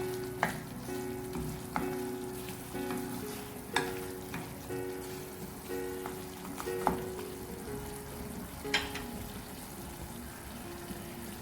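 Fried onion paste and tomato paste are stirred in a pan, a continuous soft sizzle punctuated by regular sharp clinks and scrapes of the spoon against the metal, roughly every second or two.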